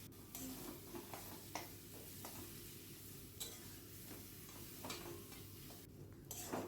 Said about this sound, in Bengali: এর মধ্যে ওই মেখে রাখা কাঁচকলাটা দিয়ে আরও 5 মিনিট আমি ভালো করে ভাজা ভাজা করে নেব